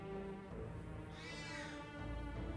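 A pet cat gives a single faint, drawn-out meow, partly buried under a steady bed of background music and noise.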